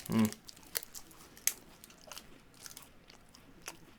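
Someone bites into a cranberry and cereal bar from a British military ration pack, a loud crisp crunch followed by quieter chewing and wrapper crinkles close up.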